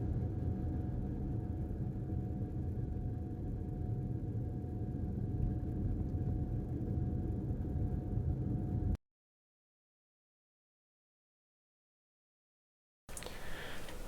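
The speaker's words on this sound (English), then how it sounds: "I'll be driving slowly, about 25 kilometers, and you can see that it is pitch quiet while driving." Inside a Lexus NX450h+ cabin moving slowly at about 25 km/h, a soft, steady low road rumble runs for several seconds, then cuts to near silence before the faint rumble returns at the end.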